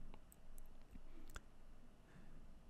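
A computer mouse clicks once or twice, small and quiet, over a faint steady room hum with no voices.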